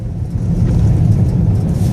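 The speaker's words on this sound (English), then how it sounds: "It was a truck, came really close to me." A truck passes very close beside a car driving through a snowstorm on winding upstate New York roads, a loud, steady low rumble of engine and road noise that swells and holds.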